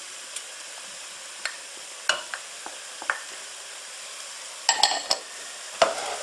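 Shallot, leek, mushroom and garlic sweat in butter with a soft, even sizzle, while a spoon scrapes and knocks against the pan in irregular clicks, heard close with no talking.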